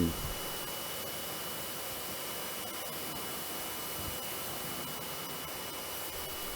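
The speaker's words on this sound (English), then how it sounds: "you want to keep the jet wash moving" A continuous hissing spray runs steadily throughout, fairly faint and even, from a Karcher K2 pressure washer with a short gun and 15-meter hose, cleaning a Suzuki Swift engine bay.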